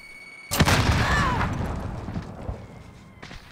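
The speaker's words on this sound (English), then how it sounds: "Grenade out." Grenade explosion on the Harbour map in a Headquarters match of the video game Modern Warfare: one sudden, loud, close blast after a brief lull, with a rumbling tail that slowly fades and a faint pop near the end.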